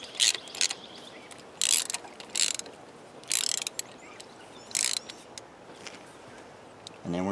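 Ratchet clicking in several short bursts while snugging a spark plug into the aluminum head of a 2010 Ford Fusion SE, close and crisp with quiet pauses between pulls.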